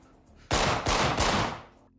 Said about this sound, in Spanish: El sonido de 3 disparos entre las 3:10 y las 3:15 de la madrugada